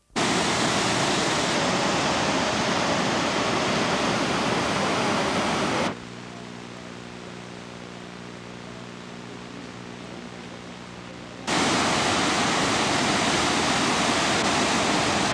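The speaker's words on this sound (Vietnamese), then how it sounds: "đi xem một cái thác nước gần đó. Thác này đổ không mạnh lắm nhưng nhờ rừng thông to nên thấy cũng đẹp" A gentle waterfall in a large pine forest gives a steady, broadband rush that breaks off partway through and then returns just as loud, with no one speaking.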